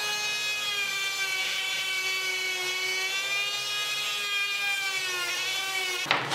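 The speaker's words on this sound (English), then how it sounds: "used the Dremel type thing and shaped the hat." A Dremel-type rotary tool shapes a small wooden hat piece for intarsia with a steady high-pitched whine that runs for about six seconds, close and alone, then cuts off abruptly.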